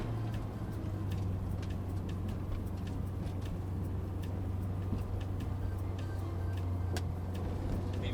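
A turbocharged Mazda Miata lapping a race track, heard from inside the car as a steady, loud engine drone with a constant low hum and faint ticking, no talk.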